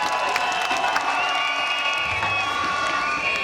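Crowd applauding and cheering at a political pre-congress rally in Gontougo, Côte d'Ivoire, a steady wash of clapping and shouts lasting throughout, with whistles and voices mixed in.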